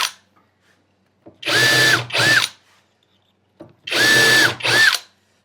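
Two paired bursts from a power drill driving pocket hole screws into a cabinet face frame, each a loud whine that ramps up, holds briefly and stops, with a short pause between pairs.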